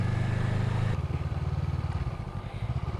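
A motorcycle engine runs close by with a steady low throb that shifts to a choppier, uneven rumble after the first second, continuing without speech.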